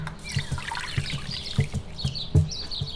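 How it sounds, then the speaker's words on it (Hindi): Poppy seeds (10 g) being rinsed in water: a steady trickle and pour with small intermittent splashes, close by, while birds chirp faintly in the background. "खसखस 10 ग्राम अच्छी तरह पानी से धोएं।"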